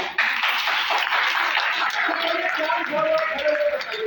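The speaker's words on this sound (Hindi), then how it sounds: "एक जोरदार तालियां सर जी।" An audience applauds for doctors in a gathering, loud sustained clapping filling the room for several seconds while someone speaks over it.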